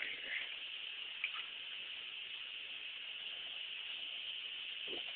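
Water pours onto a pet during a treatment, heard as a faint, steady hissing stream with a few soft splashes, quiet and continuous from start to finish.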